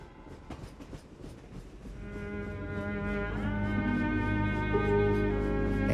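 A steady, sustained train horn swells in over the rumble and clatter of a passing railway train, loud and held to the end with no talking.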